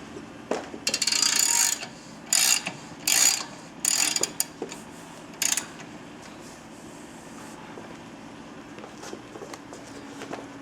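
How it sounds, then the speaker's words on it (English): A ratchet wrench loosens the front wheel axle of a Victory motorcycle in a workshop, with several short bursts of clicking ratcheting, then quieter tool handling and faint metallic taps. "You can see that we're loosening the axle, but this will actually unscrew."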